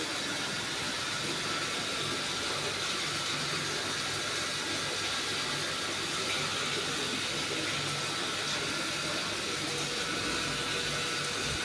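A well pump machine sprays water over trees in a steady, continuous rushing hiss with a low mechanical hum underneath, constant and fairly close throughout with no pauses.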